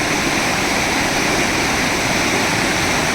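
Floodwater from heavy rain races down the swollen Khardi stream, a loud, continuous roar of rushing water, close and steady throughout with no talk.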